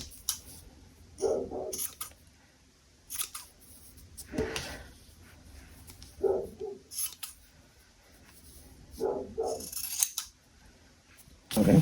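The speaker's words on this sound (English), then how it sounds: "So then I cut all around the seam just to make it less bulky." Scissors snipping fabric around a sewn seam on a baby beanie, heard as short, close crisp cuts in small clusters separated by quiet pauses.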